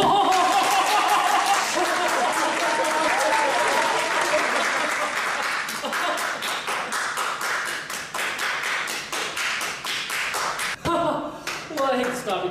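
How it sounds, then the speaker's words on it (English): Applause from a talk show audience fills the room, dense and steady, thinning toward the end into scattered claps, with a little laughter and voices mixed in. "Can I get a round of applause for him?"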